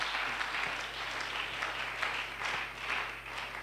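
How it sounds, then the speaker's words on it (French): Congregation applauding in church, a sustained wash of many hands clapping at moderate distance, steady with slight swells, under a low hum. "Acclamons pour le Seigneur."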